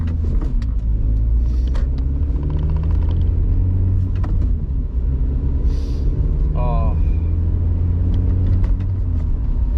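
A 2002-2008 Toyota Corolla drives after a power steering line change, with constant loud engine and road rumble and some brief squeaks. A person talks over it at times.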